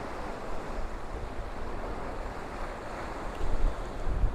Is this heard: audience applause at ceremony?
no